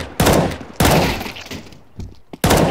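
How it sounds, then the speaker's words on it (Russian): Gunfire from CS:GO, with loud, close reports coming in separate bursts, roughly three blasts spaced across under three seconds, each leaving a short decaying tail. "Да, по три выстрела за раз она делает."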